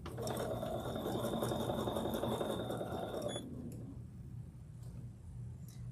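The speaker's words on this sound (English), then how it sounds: "just following this stitch line around to make sure this top is completely stitched" A sewing machine stitches steadily along a seam line on a quilt top, a close, even mechanical hum and rapid needle clatter that stops abruptly partway through, leaving quiet room noise.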